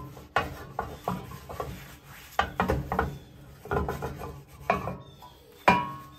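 A vintage steel skillet is scrubbed with lard and a paper towel, giving repeated rough rubbing strokes in uneven bursts, close and moderately loud, with no talk.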